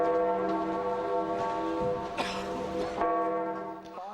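The Vatican's funeral bell tolling outdoors, a sustained, resonant ringing with layered overtones that hangs steadily through the moment under a soft crowd murmur and faint background noise.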